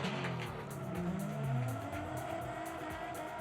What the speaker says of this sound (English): Got some burnouts going down.